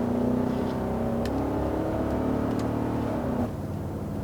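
A 1980s Mercedes 560 SEC coupe being driven, heard from inside as a loud, steady engine drone and road hum with slight shifts in pitch.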